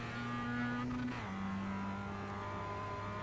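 An iRacing race car engine drones at high revs, then drops pitch sharply on a gear change and keeps pulling, a short continuous burst at low volume.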